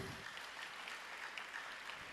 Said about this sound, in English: I believe she deserves a round of applause